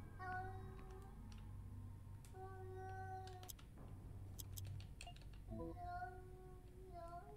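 A cat meows repeatedly in the video game Yuppie Psycho, drawn-out plaintive cries rising and falling in a series over a low steady hum, moderately close and clear.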